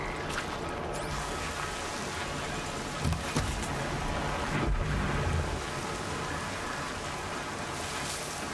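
Steady rain falling in the Horizon Zero Dawn video game, a constant dense hiss with a couple of low rumbling thumps like distant thunder partway through.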